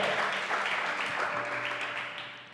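Church congregation applauding together after a sermon call, a dense steady clatter of clapping hands filling the room, fading slightly toward the end.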